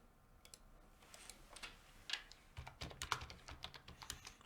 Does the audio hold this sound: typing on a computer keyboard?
yes